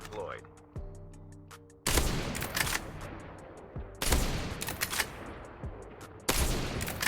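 Sniper rifle shots fired in Call of Duty: Mobile, several loud sharp cracks spaced a couple of seconds apart over game music and ambience.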